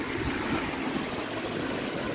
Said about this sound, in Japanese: 結構水かさが増してて川の音うるさいかもですけど